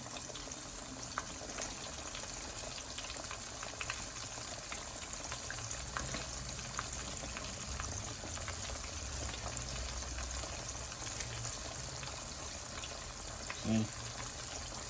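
Seasoned, flour- and cornstarch-coated chicken strips fry in oil, giving a steady faint bubbling hiss with a low rumble underneath.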